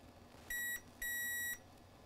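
Digital multimeter in diode mode giving two clear electronic beeps, a short one followed by a longer one, close and alone in a quiet room.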